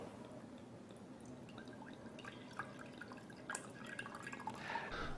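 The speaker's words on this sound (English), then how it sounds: "So we put water." Water poured into a recipient holding a small shot glass, a steady trickling and dripping pour that runs throughout, brightening toward the end as the level rises.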